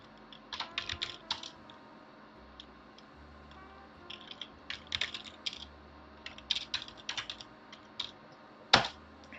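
Bursts of typing on a computer keyboard, rapid clusters of clicking keys separated by short pauses, close and fairly crisp, ending with one louder key strike.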